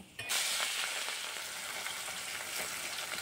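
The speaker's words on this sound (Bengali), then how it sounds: "ঠিক একইভাবে বাকি 3 পিস মাছও আমি ভেজে নেব।" Pieces of rohu fish frying in hot oil, a loud continuous sizzle that starts abruptly and holds steady with faint stirring clicks.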